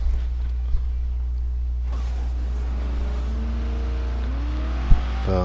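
Carson Fastback muscle car in Burnout Paradise, its engine droning steadily with a low rumble, rising in pitch through a rev near the end alongside a couple of brief thumps.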